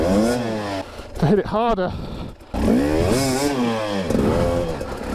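A 2020 Husqvarna TE300i two-stroke dirt bike engine revs hard and rises in pitch through repeated throttle blips, loud and close, with the rider talking over it.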